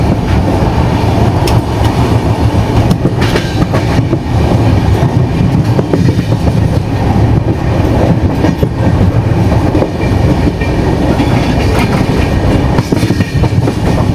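The Chennai–Trivandrum AC Superfast Express runs loudly and continuously on the tracks near Arakkonam at slow speed, with a dense rumble and steady clickety-clack of the wheels throughout and no voices.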